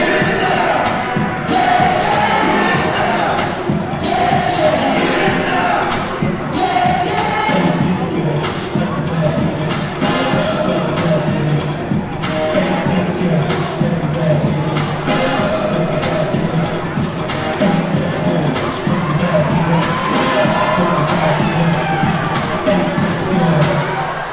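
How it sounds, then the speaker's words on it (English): A high school basketball crowd in a gym roars and cheers continuously during a tense fourth quarter, loud and dense throughout, with shouts rising above it and an announcer talking over the noise. "the crowd here is delirious"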